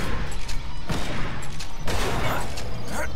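Explosions and bursts of fire in the Bunker Punks shooter game, loud and continuous, with several heavy booming hits standing out over a dense clattering barrage.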